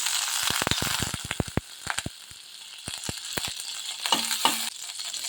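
Butter heating in a kadai for restaurant-style tomato soup gives off a busy, crackly sizzle, with sharp spattering pops clustered early and again near the end, close and steady with no talk.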